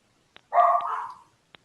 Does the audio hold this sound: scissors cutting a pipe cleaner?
no